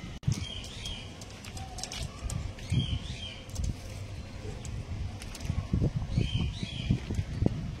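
Pigeons of a prized breed cooing, with repeated low throaty coos close by, scattered chirps and faint rustling from the birds.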